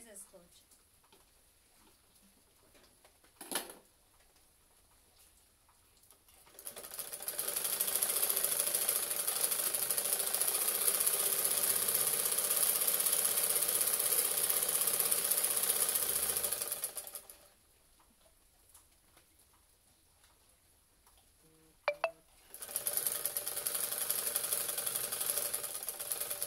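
A sewing machine stitches in two bursts of fast, steady mechanical whirring, about ten seconds and then four seconds, with quieter pauses between them holding a few clicks and a voice speaking.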